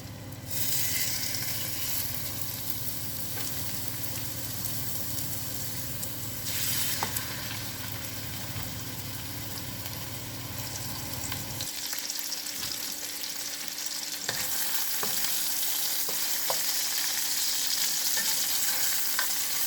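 Sausage patties fry in a pan with a steady, loud sizzle that runs throughout, and occasional stirring scrapes are heard. Partway through, the low background rumble drops away and the frying carries on alone.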